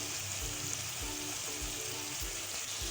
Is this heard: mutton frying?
yes